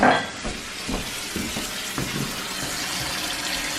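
Water splashes and gurgles steadily into a container for a turkey's cold water bath, with a few scattered sloshing knocks over a continuous running hiss.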